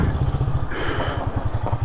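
A motorcycle engine chugs close by with a rapid, pulsing idle rhythm, briefly revving mid-clip before settling back.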